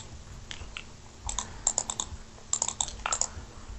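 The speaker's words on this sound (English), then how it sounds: "Sorry if my clicking is loud. My mouse is right next to my cell phone." A computer mouse clicks repeatedly during a Minecraft game, quick bursts of close, light taps in two clusters over a faint background hum, with no talking.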